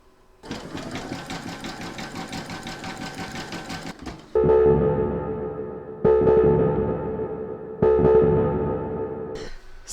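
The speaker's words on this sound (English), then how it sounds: "you're going to stitch round number 7, and that's going to do the satin stitching down this side and up this side" An embroidery sewing machine satin-stitches a large double-sided Santa appliqué: a fast, even needle rattle, then a louder, deeper steady hum that restarts in three bursts with short gaps.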